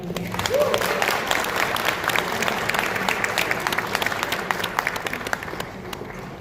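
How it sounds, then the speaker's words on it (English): Audience applause at a Dominican Independence celebration in Queens, New York: dense, sustained clapping from a sizable crowd, loud and steady across the whole stretch with scattered cheers mixed in. "one more round of applause"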